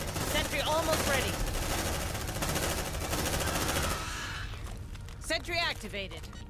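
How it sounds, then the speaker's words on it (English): Sentry gun firing in Aliens: Dark Descent, a sustained rapid mechanical burst of automatic fire that stops abruptly partway through, with voices speaking over it and afterward. "we need to set up the sentry gun"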